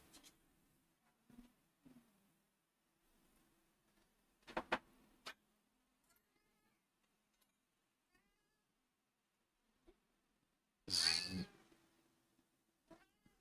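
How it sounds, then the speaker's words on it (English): Cats meowing together in sync, a few short, quiet cries early on, then one loud, sharp meow near the end against an otherwise quiet room. "I love it when they meow in sync."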